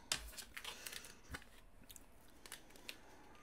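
Tarot cards being gathered up and tidied into a pile, giving a few soft, quiet shuffling scrapes and light taps spread across a short stretch with no talking.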